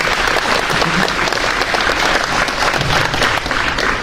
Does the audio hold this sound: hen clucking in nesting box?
no